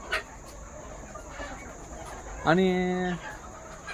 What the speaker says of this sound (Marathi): ह्या कोंबड्या कशा निवांत बसल्यात